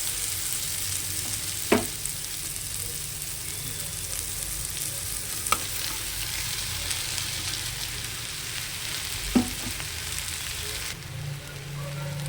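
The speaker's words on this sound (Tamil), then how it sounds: "பொரி போட்டுட்டு நல்லா இலக்கி விடுங்க." Washed puffed rice fries and is stirred through a tomato-onion masala in a pan, giving a steady close sizzle broken by three sharp spatula scrapes spaced a few seconds apart.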